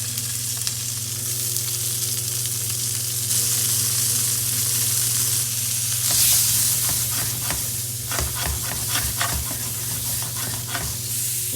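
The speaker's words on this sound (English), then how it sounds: "A little bit of a sizzle, nothing crazy." Salmon fillets searing in a hot pan over medium-high heat give a steady, moderate sizzle with crackling spatter and a few stirring or scraping sounds, close and without voices.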